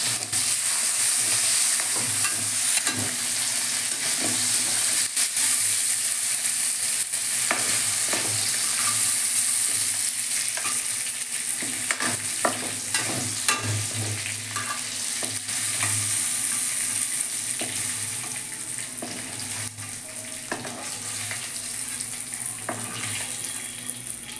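Shrimp frying in hot oil and being stirred, a loud, steady sizzle broken by repeated clinks and scrapes of a spatula against the pan.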